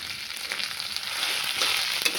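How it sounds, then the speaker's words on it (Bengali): Rohu fish pieces fry in hot oil with a dense, steady sizzle close by that swells slightly toward the end, with no talking. "একে ভালো করে ভেজে তারপরে করতে হবে"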